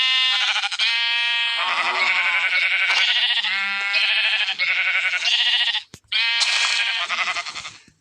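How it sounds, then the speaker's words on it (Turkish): Many sheep in Minecraft bleat in overlapping, continuous calls, loud and close, with a brief gap before the bleating resumes. "Arkadaşlar bir sürü koyun oldu."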